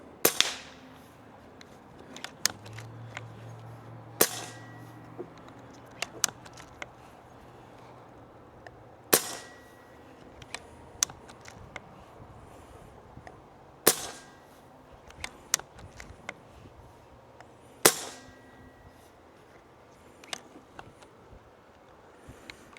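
An Air Venturi Alpha regulated PCP airgun fires a series of sharp, snappy shots spaced several seconds apart, close and crisp, each followed by faint mechanical clicks from the toggle between shots, with no talking.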